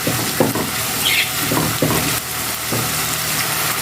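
Mushrooms go into a hot pan already seasoned with paprika and black pepper, setting off a steady close sizzle, with scraping stir strokes at irregular moments and no talking.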